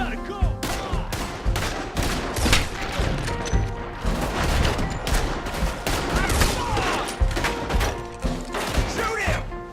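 Gunfire in the video game Red Dead Redemption 2, a loud, rapid, sustained volley of overlapping shots and mechanical clicks with no pause across the stretch.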